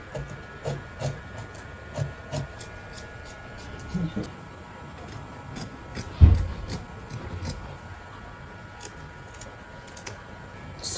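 Scissors cutting fabric pattern pieces for a pleated bubu dress, a steady run of crisp snipping clicks with occasional soft thuds, close and moderately loud, with no talking.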